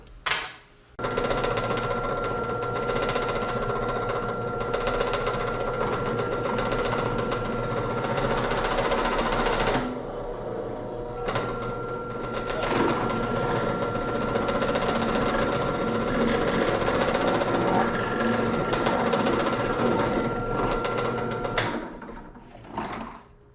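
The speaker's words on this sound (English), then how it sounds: "First things first is to drill a hole to push this bolt through." A power drill bores a hole through a cap for a spring-loaded pinball ejector, running as a steady whirring grind for about twenty seconds with a short pause partway through.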